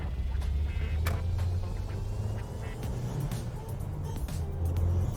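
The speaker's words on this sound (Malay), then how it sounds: "Woi, kereta Wira woi." A Proton Wira C99 car gives off a steady, loud low engine rumble that holds for the whole stretch, with faint clicks and scattered background noise above it.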